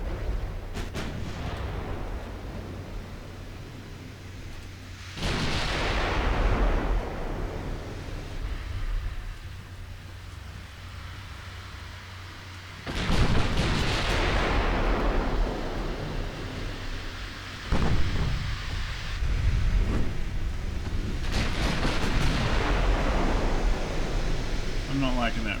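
Warship guns fire in the naval game Ultimate Admiral Dreadnoughts, 1940 Britain: three heavy booming salvos with long rumbling tails over a steady sea-and-wind bed, loud and spaced several seconds apart.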